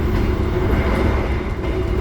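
Steady interior rumble of the Sembrani express train on a morning Semarang–Jakarta run, heard from inside a carriage as a continuous low drone with no clear wheel clicks.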